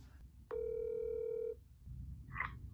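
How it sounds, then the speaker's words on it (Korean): A phone call being placed: a single steady ringback tone of about one second sounds close and clear, followed by faint rustling and a brief higher electronic chirp. "아빠 지금 전화 받을 수 있겠지? 지금 전화해볼게."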